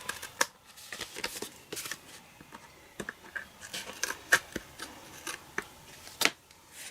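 Scissors trimming card paper for a handmade Halloween card, a quiet run of crisp snips and light paper rustles at close range, irregular and with no talking.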